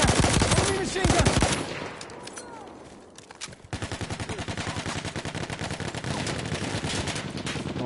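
Rapid bursts of enemy machine-gun fire in a first-person shooter game ring out loud and close, dense automatic rattling that dips briefly mid-clip and then resumes as sustained, rhythmic firing.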